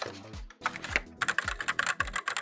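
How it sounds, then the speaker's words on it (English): Fast typing on a cheap mechanical keyboard during a typing test, a close, rapid run of clacky keystrokes with a few brief pauses and no talk. "Oh, we can do a typing test."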